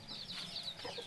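Farm chickens cluck in a short burst of rapid, close calls over faint background noise, with no talking.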